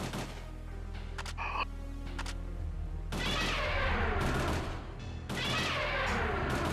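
Gunfire in Parasite Eve II, with loud broadband bursts from about three seconds on and a brief crash near 1.5 seconds over a steady low game hum. The shots are near and repeated, with no talk.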